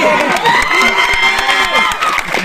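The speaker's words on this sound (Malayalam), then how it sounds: "കയ്യടി" A theatre crowd cheers and whoops loudly at a film screening event in Trivandrum, with shouting voices layered over the noise, close and sustained throughout.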